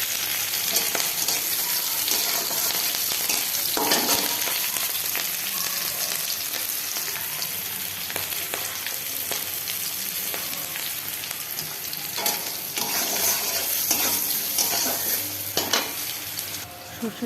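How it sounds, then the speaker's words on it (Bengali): Chopped garlic and green chilli frying in a pan, a loud continuous close-up sizzle with occasional scraping and stirring clatter from a utensil against the pan, no voices. "রসুন কুচিটা নেড়ে চেড়ে একটু কাঁচা লঙ্কা পোড়া দিয়ে দিলাম, দিয়ে তারপর একটু ফ্রাই করে নিয়ে"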